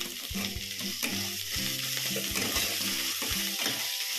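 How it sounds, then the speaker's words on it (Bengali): Chopped tomato stirred into spiced masala frying in a pan for goat head curry gives a steady close sizzle with scraping stir strokes, alongside a sustained musical tone in the background. "আমি টমেটোটা অ্যাড করে নেব।"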